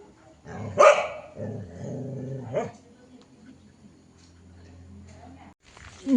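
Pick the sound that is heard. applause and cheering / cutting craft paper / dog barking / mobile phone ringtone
dog barking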